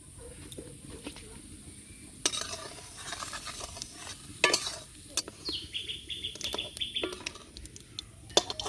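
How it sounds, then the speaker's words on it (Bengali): Whole cumin seeds frying in oil give a light, crackly sizzle with scattered sharp clicks of stirring, while birds chirp faintly in the background. "দিয়ে দেব কিছু গোটা জিরে এগুলো আমি ভেজে তুলে রাখবো"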